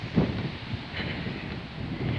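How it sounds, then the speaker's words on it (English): Moderate outdoor wind on a cool day blows steadily in soft rumbling gusts against the microphone, with no one talking. "it's not cold, but it is pretty windy."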